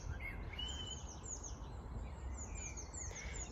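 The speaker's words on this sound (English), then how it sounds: "all the little birds are singing" Small birds singing at sunset over an allotment, several high chirps and short trills scattered across a faint evening background, distant and soft.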